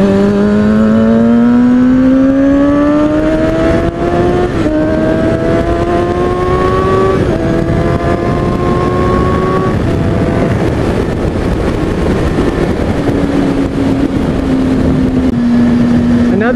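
A motorcycle rides on a freeway, its engine loud and close, the pitch climbing steadily through several gear shifts with a constant rush of wind and road noise underneath.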